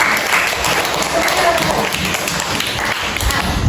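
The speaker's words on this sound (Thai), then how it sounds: "เชิญเลยค่ะปรบมือให้เพื่อนหน่อย" Thai fifth-grade classroom with students applauding a classmate, a steady, dense patter of clapping filling the room at close range for the full few seconds.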